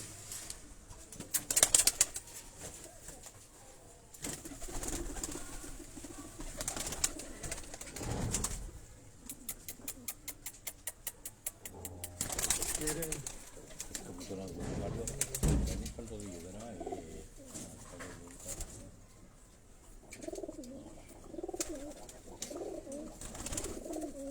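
Pigeons coo softly and repeatedly at close range, with wing flaps and someone speaking intermittently over the birds.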